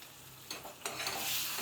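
Tomato gravy with salt being stirred in hot oil in a pan, a soft sizzle that jumps louder with each scrape of the spoon and builds into a steady bright fry.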